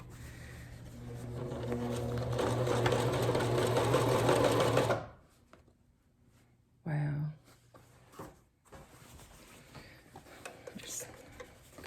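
A Singer sewing machine stitches through ripped denim jeans in a fast, steady mechanical whir for about five seconds, then stops; a short second burst of stitching follows amid quieter handling noises.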